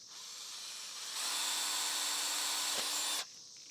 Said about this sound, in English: I'm going to drill a hole right in top of my pipe here.